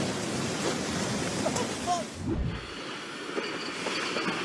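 A train rumbles along the tracks nearby with a steady roar, a brief metallic squeal, and clattering wheel noise.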